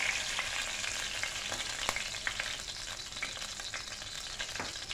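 Oil, already used for frying chicken, heating in a kadai with a steady bright sizzle and scattered small pops and crackles, close and fairly quiet, with no voices.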